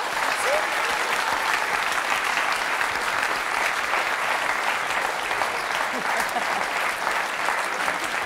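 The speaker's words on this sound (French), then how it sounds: "on peut vous applaudir très fort, vous et Pumba" A studio audience gives a guest and her dog Pumba a long round of applause, dense and steady clapping that fills the room at an even level from start to finish.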